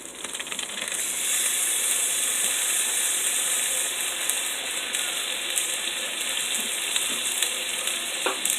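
Ground taco meat for egg rolls frying in a pan, a steady broad sizzle that swells in after the first second and holds loud and even throughout, with faint clinks from the pan.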